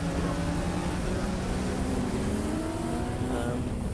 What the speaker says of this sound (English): That's Yarrow coming into the loop, isn't it?